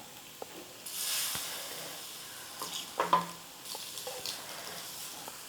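Halved boiled eggs sizzle in spiced masala oil in a kadai, producing short, soft bursts of hissing amid faint clinks and quiet pauses.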